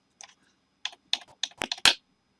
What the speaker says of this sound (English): using my arrows on my keyboard.